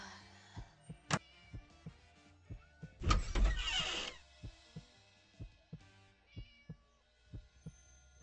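A cat meows in the Scary Teacher 3D mobile game, short cries repeating at a steady pace over a low rhythmic thumping, with a louder noisy burst in the middle; no one talks.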